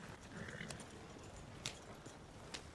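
Horses pull a coach in Red Dead Redemption, a faint steady clip-clop of hooves at a walking pace with occasional sharper hoof strikes, distant and low.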